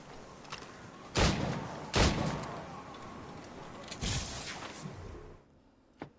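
Gunshots in the video game Assassin's Creed Rogue: a few loud booming shots spaced apart over a soft game background, with quieter bangs between them before the sound drops away.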